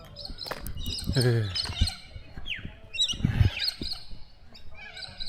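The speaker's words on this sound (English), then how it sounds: "And this bird's moving, making a lot of noise" Birds squawk and chirp in bursts nearby in a park near Western Sydney, with shrill calls repeating among faint voices and outdoor background noise.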